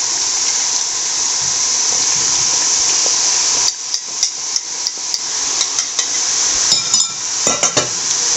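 Boondi batter drops falling into hot oil for Diwali snacks, a steady bright sizzle of frying punctuated by a run of sharp taps and clinks from a metal ladle or perforated spoon partway through.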